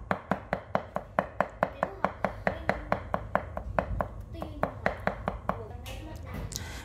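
A knife minces crushed garlic cloves on a cutting board in a home kitchen: a fast, even run of crisp chopping taps, close and fairly quiet, slowing near the end.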